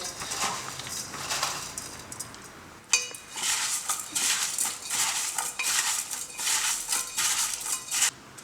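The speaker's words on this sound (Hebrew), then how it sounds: "מערבב את כל מה שיש לי כאן בקערה" Utensils mix grated carrot and vegetables for a spicy Korean carrot salad in a bowl, first a soft muffled churning, then a steady run of loud, close metallic scraping and clinking strokes.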